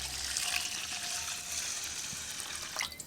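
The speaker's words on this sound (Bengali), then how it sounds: "চালটা খুব ভালোভাবে ধুয়ে নেব" Rice being rinsed by hand in a bowl of water for Kashmiri pulao, with a steady soft watery swish and slosh close by, and no talk.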